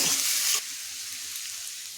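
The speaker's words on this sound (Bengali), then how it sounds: "গাজরটা দিয়ে দিচ্ছি, একটু নাড়াচাড়া করে নিই।" Carrots frying in a pan while being stirred: a loud, close hiss of hot oil that drops sharply after the first half second, then continues as a steady sizzle with faint stirring, no talking.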